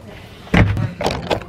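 A door closing during a trip in Tahiti, heard as a single close thud followed by a couple of softer knocks and rattles, with faint background noise around it.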